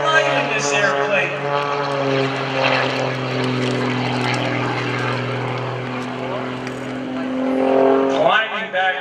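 Aerobatic propeller airplane flown by Greg Connell at the 2015 Greenwood Lake Airshow, its engine droning steadily with strong harmonic tones, then shifting pitch sharply near the end as it maneuvers; a voice speaks over it.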